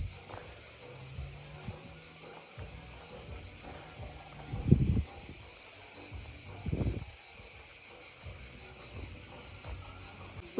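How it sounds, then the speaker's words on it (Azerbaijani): Crickets chirr in a continuous high, even drone in the forest at Nabran in Khachmaz, Azerbaijan, with a couple of brief nearby rustles or knocks breaking through. "Quşların səsini, cırcıramaların səsini işitirsiniz."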